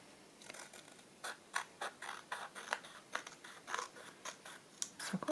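Scissors trim journal cards for a vintage travel journal in a run of about fifteen close, crisp snips at an uneven rhythm, with no talking.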